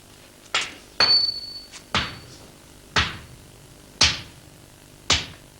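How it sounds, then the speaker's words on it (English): A swordsmith hammers a Japanese sword blade into its final shape, six sharp ringing metallic strikes spaced about a second apart, close and loud with brief decays. "After the folding, the lump is beaten into its final shape."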